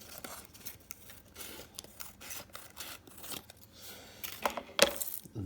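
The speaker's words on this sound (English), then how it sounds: "you need to sort of cut your tarpaulin roughly to size" Tarpaulin material being trimmed roughly to size with scissors for a model railway wagon, a run of close, crisp snipping and rustling strokes, sharper near the end.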